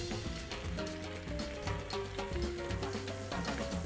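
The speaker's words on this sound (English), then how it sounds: "Just throw that on the grill. In our pan." Yellowtail fish sizzling in a pan on a grill, a steady close frying hiss that runs unbroken with faint crackles throughout, nobody speaking.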